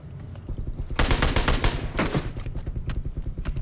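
Bursts of automatic gunfire in PUBG Mobile, loud rapid shots in two clusters with quieter scattered shots after, close and sharp, with no talk over them.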